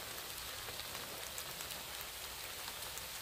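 Rain falls steadily in a dense, even hiss of drops with no pauses and no voices.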